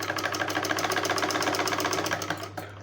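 A sewing machine runs steadily through blouse fabric, its needle hammering in a fast, even rhythm for over two seconds before stopping abruptly, close and clear with no voices.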